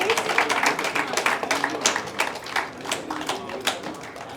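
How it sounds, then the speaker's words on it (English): Audience applause at an Ayurveda Day celebration and award function, a dense patter of many hands clapping steadily for several seconds, moderately loud, with individual claps standing out. "Can we all have a Round of applause."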